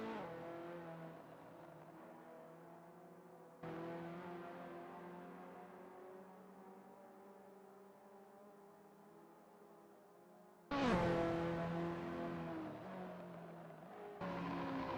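A Ferrari F40 engine on a practice out lap around Kyalami 1967 in a racing video game, with a steady mid-level drone that swells sharply at about 3.5, 10.7 and 14 seconds as the throttle opens, then eases off.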